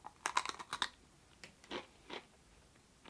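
Crunchy food is chewed close up in a quiet log cabin, a handful of sharp, irregular crunches and bites with short pauses between them.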